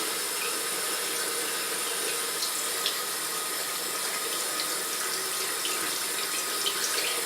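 Tap water runs steadily into a sink while a makeup face brush is rinsed beneath the stream, a continuous even hiss and splash close by with no talking.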